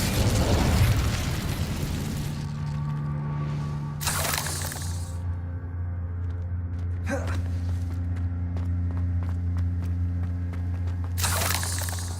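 Incendio fire spell cast in Hogwarts Legacy, a loud burst of crackling flame at the start followed by several sharp whooshing blasts over a steady low hum.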